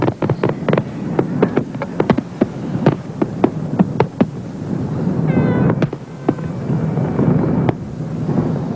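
Fireworks at the 1986 Expo fair erupt in a rapid series of sharp bangs and crackles over a continuous crowd rumble, with a brief whistling rocket partway through.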